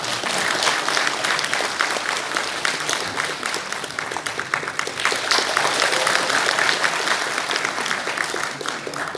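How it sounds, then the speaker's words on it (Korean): Audience applause at a forum in the National Assembly Members' Office Building, Seoul: dense, steady clapping from a full room, sustained and fairly loud for about nine seconds with no talking over it. "큰 박수 부탁드립니다."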